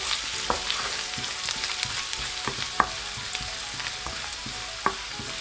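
Turnip greens cooking in a wok for shalgam saag, with a continuous sizzle under repeated scraping and stirring clicks of a utensil against the pan, close and clear, no voices.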